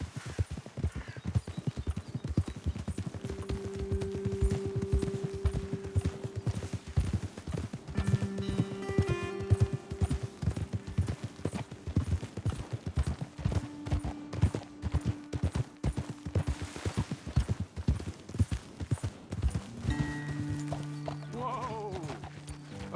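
Horses in the Red Dead Redemption video game clop rapidly and steadily on the ground under sustained musical tones, with a whinny and a few louder thumps near the end.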